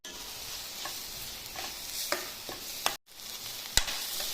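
Pieces of dried fish fry in oil, giving a crackling sizzle broken by sharp spoon scrapes and clinks against the pan, with a brief silent gap partway through.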